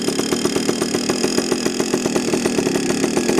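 A heavily modified Yamaha PW80 motorcycle engine with FMF parts idles at a steady, fast, buzzy pulse, loud and close, with no talking over it.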